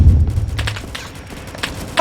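Gunfire on a Minecraft server in the game Rolling Thunder: a few scattered booming shots and thumps, fairly loud and close, with no talk.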